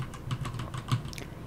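Quick bursts of clicky keystrokes on a computer keyboard as a command is typed, close and crisp with an uneven rhythm and no talking.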